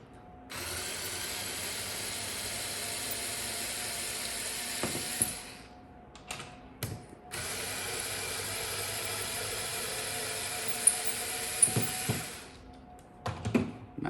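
Torx screws being backed out of the top of a Ryobi lithium-ion battery pack with a hand tool give close, crisp ratcheting clicks in steady runs, with a couple of short pauses between turns.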